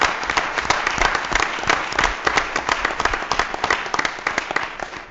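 Applause from a town gathering for an age-friendly community event: a crowd clapping steadily, with many individual claps audible, fairly close and continuing throughout with no talk.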